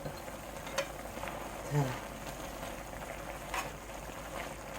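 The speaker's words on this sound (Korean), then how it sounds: "자 이게 이렇게 끓기 시작해요" A pot of aged-kimchi and doenjang stew starting to boil, soft bubbling and faint sizzle with a few light stirring or lid clinks, quiet and close, no talk.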